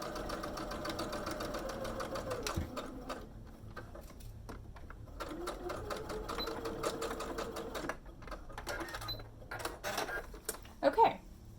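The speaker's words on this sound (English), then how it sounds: "I'm gonna go ahead and stitch that down." A sewing machine stitches down a fabric mask seam at a 3/8 inch seam allowance, running in steady mechanical bursts with brief pauses and a few louder clicks near the end.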